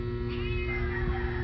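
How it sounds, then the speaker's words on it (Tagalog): A pet cat gives one drawn-out meow, close and loud over a steady background hum, with no talking. "So sorry po sa pusa namin."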